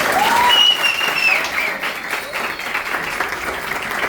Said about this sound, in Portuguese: uma salva de palmas para Mauro